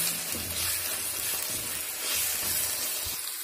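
Boiled bathua greens sizzle in a hot pan with onion and tomato: a steady, fairly loud frying hiss with soft bubbling and occasional low stirring thumps, close up and without speech.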